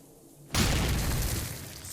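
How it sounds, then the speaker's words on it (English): A sudden loud explosion booms in the video game Cataclysm: Dark Days Ahead after a brief quiet moment, then a rumbling wash slowly fades. "So, you hear an explosion."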